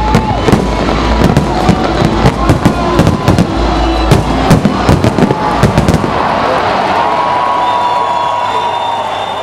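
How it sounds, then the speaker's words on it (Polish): A fireworks display at the Fire and Water Festival, launched from barges by teams from Czechia, Poland and Slovakia, crackles with loud rapid bangs and pops, then gives way to distant crowd cheering and applause. "Nasza ekipa odwiedziła barki, z których zespoły z Czech, Polski i Słowacji odpalały fajerwerki."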